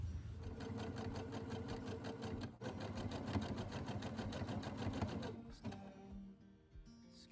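A sewing machine runs a zigzag stitch along fleece hems with a fast, steady mechanical chatter for about five seconds, then slows and stops with a few fading clicks.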